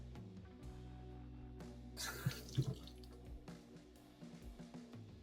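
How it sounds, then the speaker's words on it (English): A bar of soap is wet under a running tap while makeup brushes are cleaned at a sink, with a soft steady trickle of water and a few louder splashes and knocks midway, and no speech. "I'm going to get the bar of soap wet."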